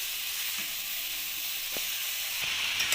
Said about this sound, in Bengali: এবার আমি বাঁধাকপিটা দিয়ে দেবো।